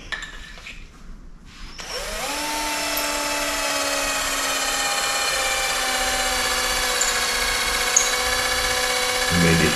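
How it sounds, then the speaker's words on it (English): A power drill whirs up and runs steadily for several seconds while drilling locomotive door parts to a stopper, a loud continuous whine with rising pitch at the start. "Drill until it hits the stopper."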